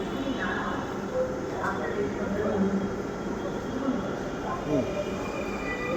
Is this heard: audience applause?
no